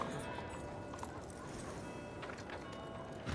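Horse hooves clip-clop at a steady walking rhythm in RedM roleplay, a horse ridden in a Western video game, soft and continuous over a low background.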